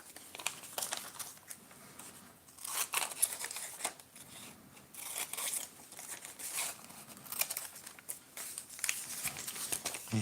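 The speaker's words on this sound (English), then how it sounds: "Right, scissors it is." Scissors cutting stamps from album pages: repeated crisp snips and paper crinkling in irregular bursts, close and fairly quiet, with no talk.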